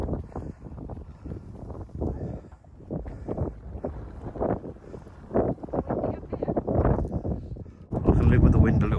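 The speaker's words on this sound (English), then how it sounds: "I can live with the wind a little bit" Gusty wind buffets the microphone while a narrowboat cruises in winter, roaring in uneven bursts that grow strongest at the end, with people chatting throughout.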